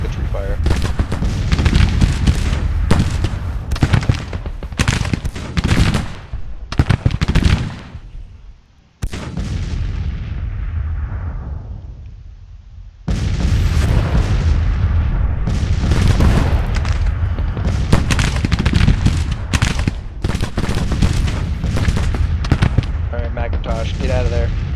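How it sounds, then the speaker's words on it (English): Heavy musketry volleys and booming canister fire in a Grand Tactician: The Civil War battle at Manassas, loud dense crackling bursts and thuds rolling on continuously, with a brief lull mid-way before the barrage resumes. "It looks like he's in the range of some canister, but he's also taking some heavy musketry fire."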